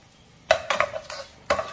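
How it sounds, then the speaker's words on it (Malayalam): Coconut pieces fry in hot coconut oil, a bright crackling sizzle with several scraping stirs of a spoon against the pan in uneven bursts. "വെളിച്ചെണ്ണ ചൂടായിട്ടുണ്ട്. അതിലേക്ക് ആദ്യമേ തേങ്ങാക്കൊത്ത് ചേർക്കാം."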